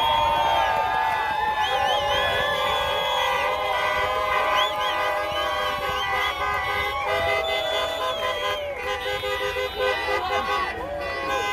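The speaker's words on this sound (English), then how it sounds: "I realize it's a lot of honking." Many vehicle horns honking together at a protest convoy, overlapping sustained blasts and short toots, loud and continuous with a voice talking over them.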